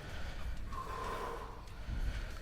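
A forceful, sustained exhale from a lifter straining through a powerlifting-style bench press, fairly close, over a constant noisy gym background.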